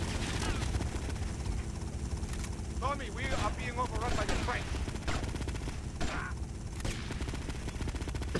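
Helicopter and gunfire in the video game GTA Vice City: constant rotor drone under bursts of machine-gun fire and scattered shots, with someone talking over the action.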